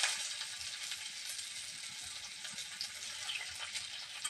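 Chopped onion goes into hot oil with dried red chilli and cumin, and it fries with a steady, close hiss and crackle and no talk over it.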